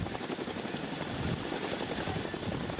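Steady broadband rotor roar of a CH-47 Chinook helicopter, loud and continuous throughout with an even beating texture and no pauses.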